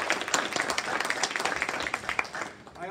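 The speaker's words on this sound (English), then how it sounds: "So a round of applause for all of our students." Families at a school Student of the Month ceremony give a round of applause for honored students: a dense patter of many hands clapping that tapers off after about two and a half seconds.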